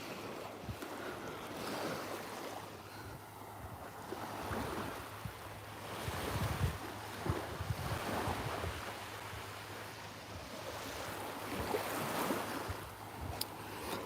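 Waves wash onto a beach in a soft, continuous surge and rush, with gentle swells and heavy wind buffeting the microphone.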